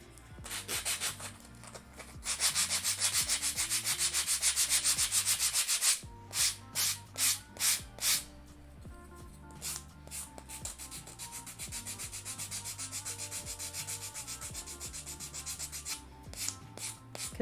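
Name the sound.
sanding wood for a miniature dresser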